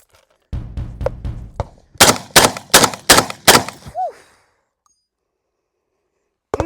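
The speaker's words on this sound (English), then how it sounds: "Well, Yoke, she looks just like a regular semi-auto shotgun." A Saiga 12 semi-automatic 12 gauge shotgun fires outdoors, first a quick string of sharp blasts, then five louder, heavier shots in steady rhythm, each with a short echoing tail, close and loud.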